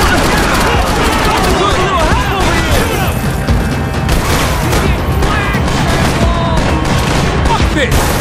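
Max Payne 3 gunfight against cops, with loud, dense bursts of gunfire and crashing impacts running nonstop and a player shouting over the shooting.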